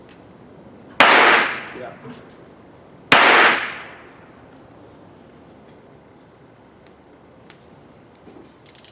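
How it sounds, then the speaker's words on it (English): Two loud Beretta handgun shots fired at an outdoor shooting range, about two seconds apart, each with a sharp crack and a short echoing tail, with a brief spoken word between them. "Because most of the time if I want to shoot something tiny, I shoot the Beretta."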